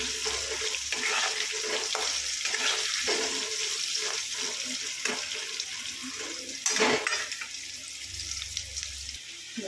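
Potatoes frying in oil, a continuous broadband hiss and crackle that holds steady throughout, with a brief louder burst partway through.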